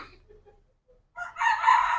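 Domestic pigeons in a backyard coop give a short burst of bird calls after a quiet stretch, fairly close and moderately loud.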